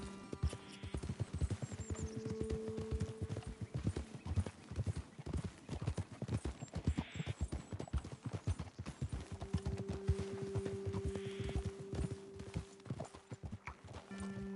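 Rapid, steady hoofbeats of horses galloping in the video game Red Dead Redemption 2, close and loud for most of the stretch, with occasional whinnies and sustained tones in the background.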